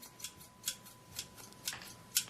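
Barber's scissors snip through hair in a barbershop scene, five crisp, evenly spaced cuts close to the ear, quiet and alone against a faint background hum.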